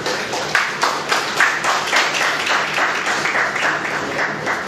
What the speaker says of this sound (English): Another round of applause for the CEO.